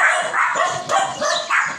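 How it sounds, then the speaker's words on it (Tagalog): A neighbour's dog barks repeatedly nearby, a quick series of sharp, fairly loud barks in an irregular rhythm, heard on its own without talk. "May tumatahol yung aso."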